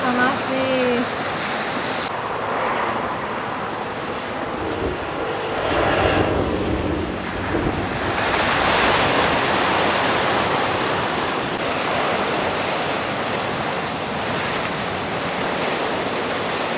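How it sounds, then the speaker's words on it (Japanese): Sea spray surges up from a blowhole on the Tahiti coast in a broad, continuous roaring wash heard from a distance, swelling around the middle, with a soft voice briefly at the start. "潮が吹き上がってる音が聞こえます"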